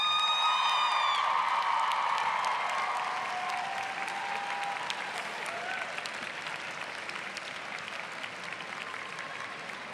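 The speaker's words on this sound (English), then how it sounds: "turn around, and applaud your families and friends" Graduates at a 2018 college commencement ceremony applauding their families and friends, a dense, steady wash of clapping from a large crowd that gradually thins, with a few faint cheers early on.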